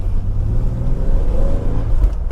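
A Nissan Z car engine pulls loud and steady in first gear, its low drone rising slightly in pitch as it accelerates, heard from close range with no talk.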